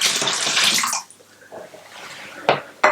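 Squeezed lemon juice poured into a container for elderflower wine, a splashing liquid pour lasting about a second, then quiet with a few small drips and knocks.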